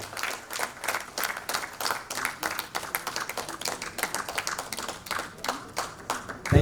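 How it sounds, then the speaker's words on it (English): An audience claps steadily for an award honoree at a women's recognition ceremony, a dense, continuous round of hand claps with a few louder bursts, no voices over it. "Come on everybody, a loud round of applause for Darshi Kirtisena."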